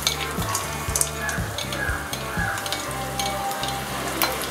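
Coconut pieces fry in hot ghee in an urli for parippu pradhaman, a loud continuous sizzle near at hand, broken by quick scraping stir strokes at a steady pace.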